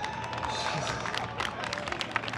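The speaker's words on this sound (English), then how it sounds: "Big round of applause, not for me, but for Basil" A crowd applauds and cheers for Basil after a street-performance trick, a short burst of steady clapping with some cheering.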